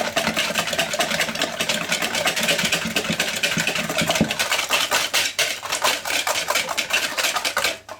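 Marbled muffin batter with cream is mixed steadily in a bowl, a continuous scraping, churning clatter that runs unbroken for the whole stretch with no one talking.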